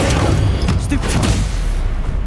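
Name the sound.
Stupefy spell being cast, from video game Hogwarts Legacy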